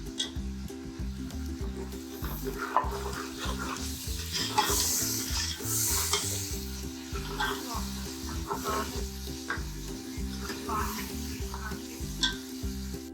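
Tomatoes and green chillies sizzle and fry loudly in masala in a pan while being stirred, with a steady hiss and occasional scraping; a faint voice talks underneath.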